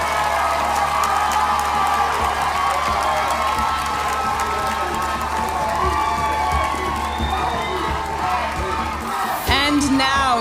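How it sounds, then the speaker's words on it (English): Audience at a male pageant final show applauding and cheering continuously, a dense loud crowd roar with whoops and claps, with music and an amplified voice coming in near the end. "Can you please give them a round of applause to all the others"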